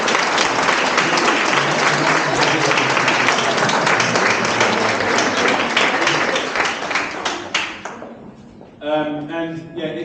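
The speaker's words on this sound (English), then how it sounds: "let's give them a round of applause for their hard work" A crowd at a graduate art show claps steadily and loudly for several seconds, then the applause thins out and a voice begins speaking.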